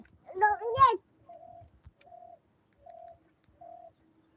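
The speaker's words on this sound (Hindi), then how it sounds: "ब्राउनी को दिख गए हैं अब कबूतर" A pigeon coos four times in a steady, evenly spaced series, soft and nearby, after a short burst of a voice at the start.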